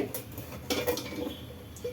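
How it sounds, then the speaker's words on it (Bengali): A metal kadai (wok) is set down on a gas stove, making a few sharp, close metallic clanks and knocks in quick succession. "এবারে গ্যাস অন করে কড়াই বসিয়ে দিলাম"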